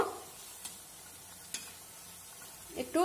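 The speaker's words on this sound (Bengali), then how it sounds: "তার জন্য পকোড়াগুলোকে আমি ভালো মতন ভেজে নেব" Potato leaf pakoras deep frying in oil over a low gas flame give a faint, steady sizzle, broken by a few light clicks of stirring and a louder scrape near the end.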